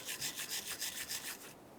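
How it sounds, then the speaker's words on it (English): Rapid back-and-forth scrubbing of a stiff wire brush against metal brake parts on a Ram 2500, about seven quick rasping strokes close by, then it stops. "Use a wire brush for that."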